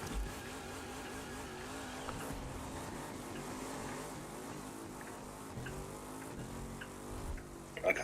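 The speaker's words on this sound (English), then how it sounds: "you're burning your tyres out too much" A drag race car in a racing video game revs and drones steadily at a low, distant level, its engine tone wavering as the tyres spin, with no talk.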